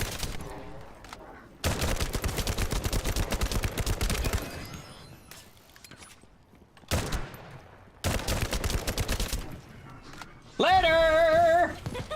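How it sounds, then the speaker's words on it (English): Automatic gunfire rattles in 7 Days to Die, several long, loud bursts of rapid shots separated by quieter gaps, with a player talking between them and a tonal electronic whine at the end. "Something's shooting me."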